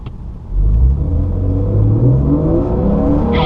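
A car accelerates onto the track at Laguna Seca during a trail-braking exercise at Turns 1-2, its engine swelling into a steady, rising drone close by after a short quiet start.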